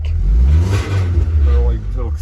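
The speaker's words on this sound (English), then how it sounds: "Sounds like it actually revs up." A car engine revs up loudly and close by, rising and falling over a couple of seconds, with a rattly exhaust and a voice talking over it.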